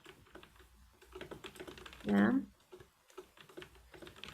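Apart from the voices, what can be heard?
typing on a computer keyboard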